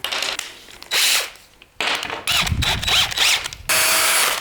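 A power drill drives screws into scrap-wood furniture in short bursts, four or five whirring runs separated by pauses and small clicks, close and fairly loud.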